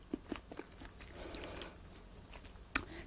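Quiet, close crunching bites and chewing of crisp fried shrimp toast made with rice bread, a few sharp crackles spaced out against a soft background.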